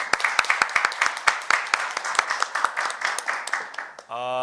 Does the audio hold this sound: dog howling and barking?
no